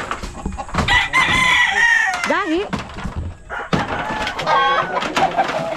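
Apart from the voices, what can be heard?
chickens clucking and rooster crowing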